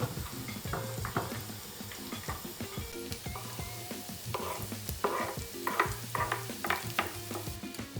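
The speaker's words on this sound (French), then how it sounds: "on laisse griller encore un petit peu l'ail" Garlic fries alongside onions and chorizo in a pan, a quieter crackling sizzle with frequent stirring clicks and utensil taps close by; nobody talks.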